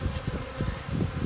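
Honeybees crawling over hive frames give a soft, steady buzzing drone, close and continuous with faint rustling pulses, no voices.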